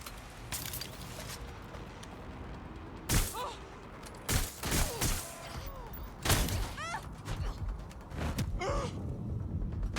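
Gunfire in the game Watch Dogs Legion: sharp, loud shots and bursts come in irregular clusters with thuds and impacts, and short voiced exclamations and grunts between them.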